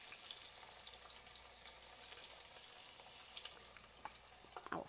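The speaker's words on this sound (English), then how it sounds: "So they really just cook about 1 minute on either side, sizzle, sizzle." Squash slices fry in hot oil with a steady, bright sizzle and crackle, close by, and a few louder pops and a brief clatter near the end.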